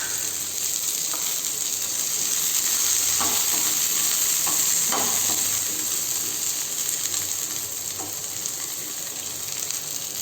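Two dry red chillies and a few curry leaves crackling in hot oil for onion chutney, a loud, continuous sizzle with occasional spoon scrapes and pops, no voices.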